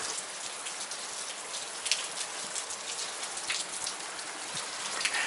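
Steady rain pattering on a surface, a dense, even hiss of drops close by with no voices.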